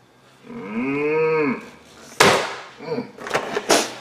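A cow lets out one drawn-out moo, rising and falling, followed by clattering knocks and thumps nearby.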